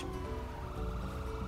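A police siren in the video game GTA 5, a loud continuous wailing tone over a dense rumble, steady for the whole stretch.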